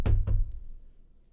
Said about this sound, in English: Knock on wood right now.